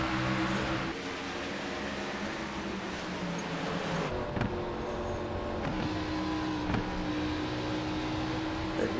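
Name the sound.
race cars at speed in a sim racing video game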